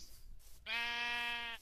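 A single drawn-out video-game sheep bleat, clear and close, with a steady tonal quality lasting about a second, following a brief quiet moment.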